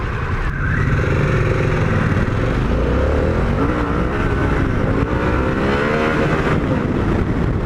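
A 2021 Harley-Davidson Pan America 1250 adventure motorcycle in sport mode pulls hard, its loud engine note rising and shifting steadily through gears across the whole stretch, close and continuous with no voices.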